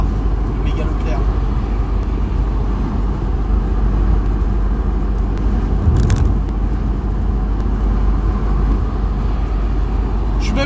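A car cruises on a road in sixth gear, giving a loud, steady low engine and road drone from inside the cabin that runs unbroken throughout.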